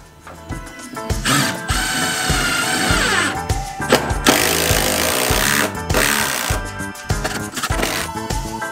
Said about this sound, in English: I am going to put structural screws through the joint here and suck it a little tighter.